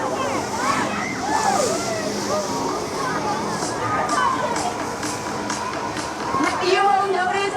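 Water jets roar and splash at a hydroflight stunt show, pumped through a hose out of a performer's boots as he soars above the crowd; a steady wash of spray and splatter with crowd noise and shouts throughout.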